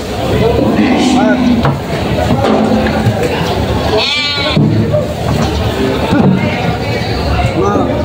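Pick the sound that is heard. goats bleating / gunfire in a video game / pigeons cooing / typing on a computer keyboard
goats bleating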